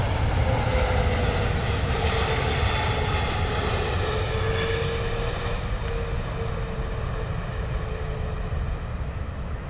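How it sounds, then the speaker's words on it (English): A Boeing 777 with GE90 engines on landing approach at London Heathrow gives a loud, steady jet roar with a slowly falling whine, continuous and close overhead. "the engines on that 777 sound gorgeous"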